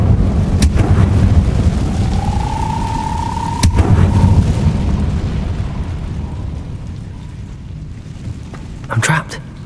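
A low rumbling blast from an Incendio fire spell in Hogwarts Legacy, heavy boom and roar sustained and slowly fading, with a couple of sharp cracks and a short bright tone.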